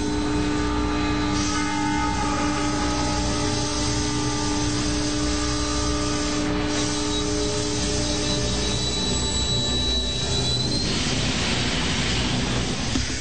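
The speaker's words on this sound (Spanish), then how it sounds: "El ACD ha detenido el tren de forma automática." A train rolls in on a busy track and is brought to a halt automatically by an anti-collision device, its steady rumble and tonal hum carrying loud throughout with a faint high squeal, no voices.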